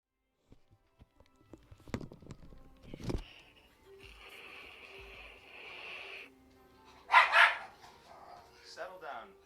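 A farm dog barks a few scattered times indoors, with short sharp yelps and a louder burst near the end among quieter rustling and background hum.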